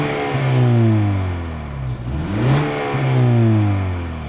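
A Ford truck engine revs up and down in smooth swells, pitch rising and falling twice, close and loud with a deep throaty tone.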